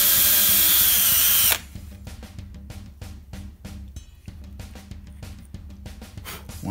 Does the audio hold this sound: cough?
no